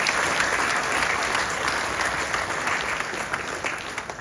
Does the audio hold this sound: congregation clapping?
yes